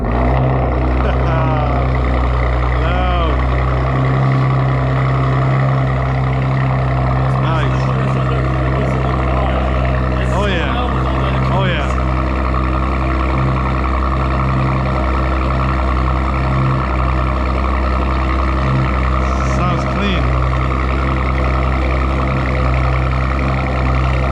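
Audi RS5 idling in an underground space, a loud, steady low engine rumble with a constant droning tone and a few brief revs or chirps, while people talk over it.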